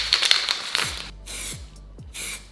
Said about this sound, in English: I'm gonna put some spray paint over it, otherwise it's gonna rust